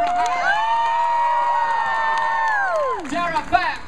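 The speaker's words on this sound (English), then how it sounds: "Evie, Starlight, give her a hand." Loud crowd cheering and whooping rolls on steadily, then tapers off, with scattered shouts and voices at the close.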